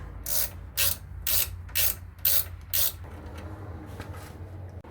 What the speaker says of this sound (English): Now we're just going to snug it up. Use a gear wrench, it's faster.